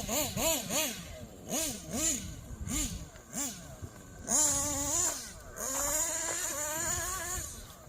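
A Kyosho USA-1 Nitro V2 RC monster truck's small nitro engine, run on gravel, revs in quick rising and falling bursts. It then holds longer, higher-pitched whining runs at close to mid distance.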